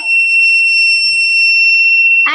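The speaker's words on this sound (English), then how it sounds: "Now the Arduino UNO will alert the buzzer" A buzzer on an Arduino UNO train collision warning system sounds one continuous, loud, piercing electronic tone that holds steady before cutting off abruptly.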